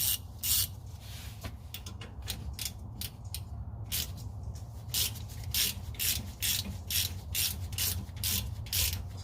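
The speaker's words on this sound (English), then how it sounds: "we're ready to screw everything in our drain plug here" A ratchet tightens the drain plug on a 2015 Ford F150 rear differential cover, producing close, rhythmic bursts of rapid clicking strokes repeated steadily, with no voices.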